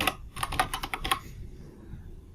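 Quick, close keystrokes on a computer keyboard while data is entered into a database table, a short run of about eight taps followed by quiet room tone.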